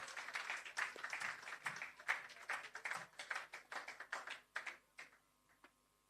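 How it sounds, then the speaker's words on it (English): Audience clapping at a roof handover ceremony for a shelter recovery programme, a moderate crowd applauding steadily for about five seconds before the claps thin out and stop. "Give him a round of applause as well, ladies and gentlemen."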